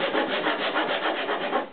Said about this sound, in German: kleine Stückchen zu sägen.